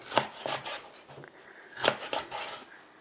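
A knife chops through dried pollack on a board in several sharp, close strikes, grouped in short bursts with brief pauses between, no speech.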